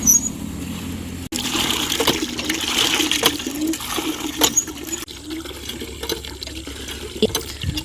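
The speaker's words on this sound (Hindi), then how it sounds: "ऐसे करके पानी डाल देंगे तो सब मिट्टी बैठ जाएगी।" Water poured and splashing onto freshly cleaned, leveled soil at a new house plot to settle the earth, a continuous close gushing with a brief break partway through.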